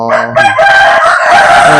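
A rooster crows loudly and close by at a fighting-cock selection camp in Thailand, one full drawn-out crow that fills the short moment, with no talk over it.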